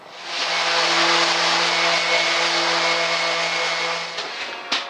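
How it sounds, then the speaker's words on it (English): A random orbit sander smooths wooden edge banding on a nightstand with a steady, close, droning whine that holds for about four seconds before cutting off, followed by a light knock. "using my random orbit sander, I'm just going to smooth over everything"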